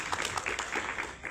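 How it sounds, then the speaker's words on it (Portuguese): Church congregation applauding together, a faint, continuous patter of many hands clapping in a short burst. "Dê uma salva de palmas a Jesus por isso."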